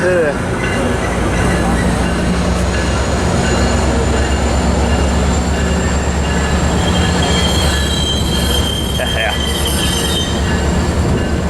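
Train 895 pulls into Fullerton station with loud, continuous rumbling and high squealing wheels, heard up close while people talk over it.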